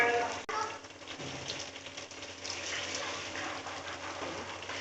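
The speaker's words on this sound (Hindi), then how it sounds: "इसका अब हम मसाला भूनेंगे" Garlic, turmeric and ginger masala frying in a pan for prawn salan, a steady broadband sizzle that holds close and fairly loud through the whole stretch with no talk over it.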